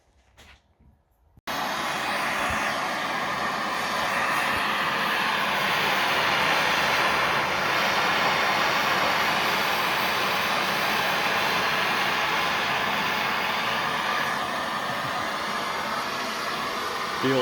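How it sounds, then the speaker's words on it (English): A torch heating the differential casting of a Classic Mini to pull out a slight bend, a loud steady roaring hiss that starts abruptly after a short quiet moment and holds unbroken to the end. "So we're just warming it up to see if we can get that slight bend in the casting out."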